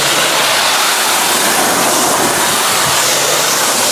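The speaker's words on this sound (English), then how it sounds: "Always start with the pressure washer away from the vehicle and then bring it in." Pressure washer spraying water onto a car during a winter wash, a steady, loud, broadband hiss of spray that runs without a break for the whole stretch, with no voices.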